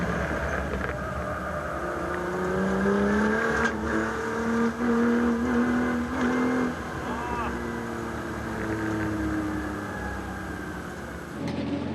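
A tuned Nissan 35GT-R with a blown turbo struggles to rev at the Fuji circuit, its engine tone rising and sagging unevenly as it fails to pull, loud and steady against constant speech over the top.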